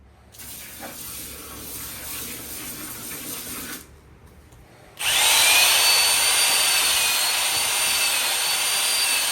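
A power drill mixes plastering material in a bucket, whirring steadily before a short pause and then restarting louder and closer, ending in a high, continuous mixing whine.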